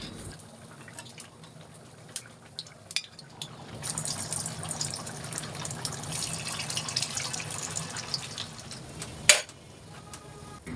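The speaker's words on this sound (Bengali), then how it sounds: "তারপর কাবাবগুলো দেওয়ার পর চুলার আঁচটা মাঝারিতে করে এখন সুন্দর করে ভেজে নিচ্ছি।" Fish kebabs sizzle in hot oil in a pan over medium heat, a steady broadband frying hiss lasting throughout with small pops and crackles and one sharper clatter near the end.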